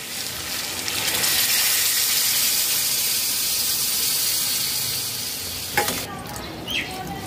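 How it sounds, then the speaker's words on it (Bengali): A loud, steady sizzle fills the air as hot water is poured into chicken frying in a pan over a high gas flame, then the hissing drops off sharply into a few clinks and quieter bubbling. "এখানে গরম জল অ্যাড করে দেব।"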